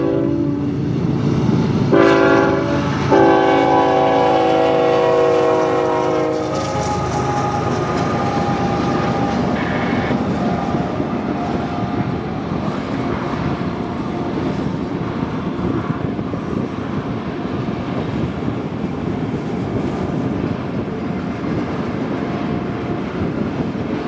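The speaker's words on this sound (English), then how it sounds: "we intercept a UP AUTORACK train using its trackage rights to reach Los Angeles" A Union Pacific autorack freight train rolls through the Mojave Desert, opening with several loud horn blasts before a long, steady rumble of passing railcars fills the rest.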